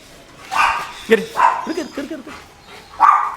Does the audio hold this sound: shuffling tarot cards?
no